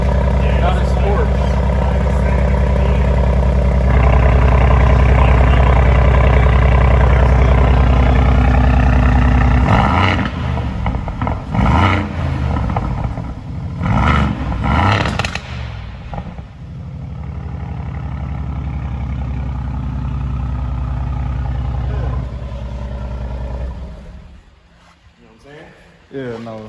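A McLaren sports car fitted with an AMG engine runs in quiet mode, a deep steady hum close by that drops and wavers, with people talking over it throughout.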